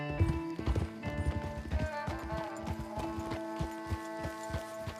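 Steady clip-clop of horse hooves at a walking pace in Red Dead Redemption 2, several animals, close and rhythmic over a low hum.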